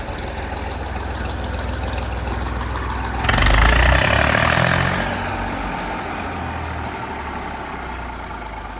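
A heavy diesel engine of a Ford 3600 tractor runs steadily throughout, revving louder for a couple of seconds before settling back to a rough, knocking idle. No voices.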